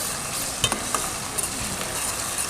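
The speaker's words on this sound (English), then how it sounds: "You can hear the sizzle." Ginger garlic paste sizzles and fries in a pan on a gas stove, a steady close hiss with small crackles and occasional stirring clinks, with no talk.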